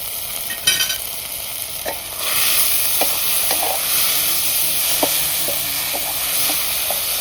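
Dried fish and onion fry in a pan with a loud, continuous sizzle, broken by occasional scrapes and clicks of stirring; no voices.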